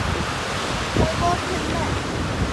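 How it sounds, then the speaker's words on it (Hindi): A fast blue river rushes beside mountains, a broad, steady roar of water mixed with cool wind buffeting the microphone, with a brief voice heard faintly over it. "पानी बड़े तेज़ रफ्तारी से आ रहा है।"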